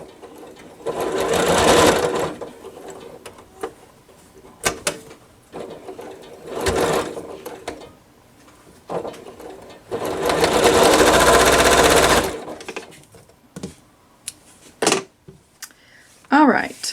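A sewing machine stitches quilt block pieces together for a Sunny Day quilt block, running in several close, loud bursts of rapid stitching separated by short pauses and small handling clicks.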